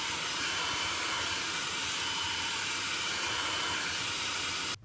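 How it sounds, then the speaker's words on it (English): Hair dryer blowing to melt ice in the bottom freezer of a Whirlpool WRF560SEYM refrigerator, a loud steady whooshing roar held constant throughout, cutting off abruptly at the end. "I'm going to have to hit that with the hair dryer to loosen up some of the ice"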